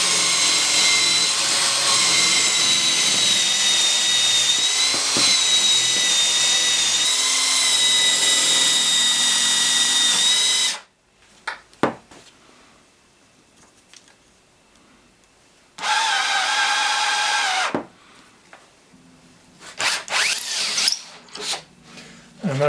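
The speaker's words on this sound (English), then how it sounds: "now you can turn it on and start to drill" Power drill boring a pocket hole into wood through a jig: a loud, steady whine for about ten seconds, then a quieter pause, a second short burst of drilling, and clanks and clicks as the tool is handled.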